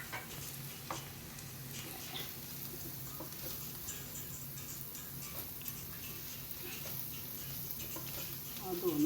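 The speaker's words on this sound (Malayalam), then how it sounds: "മഞ്ഞൾപ്പൊടി ചേർത്ത് കഴിഞ്ഞാൽ നമ്മൾ ആദ്യം അതിനെ ഒന്ന് ചെറുതായിട്ട് മൂപ്പിക്കണം" Turmeric, coriander and other spice powders frying in a pan for an egg fry masala, a soft continuous sizzle with occasional stirring scrapes, steady and close throughout.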